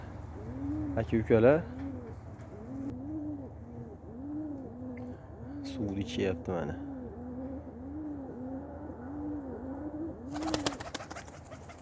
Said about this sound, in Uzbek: Mana kaptarlar.